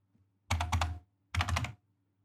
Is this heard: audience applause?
no